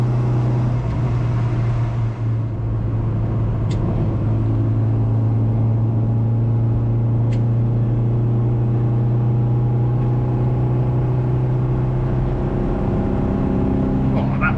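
Steady engine drone and road rumble from inside a restored classic Mini driving on the road, a constant low hum with no changes in pace and no talk.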